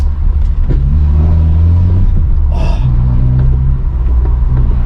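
Vauxhall Corsa with a straight-piped back box, its engine idling in a deep loud rumble with a brief rev rising and falling midway, close and continuous with no voice.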